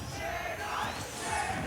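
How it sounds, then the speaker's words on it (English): Tournament crowd at a Super Smash Bros event roaring and cheering for player K9, a sustained wash of voices and shouts that rises slightly toward the end, with no distinct speech over it. "we hear the crowd getting hyped for K9"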